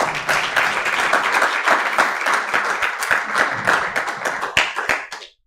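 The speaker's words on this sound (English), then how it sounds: "Can I have a big clap for Marie" An audience at a church youth meeting bursts into sustained applause, many hands clapping densely and steadily for several seconds before tapering off at the end.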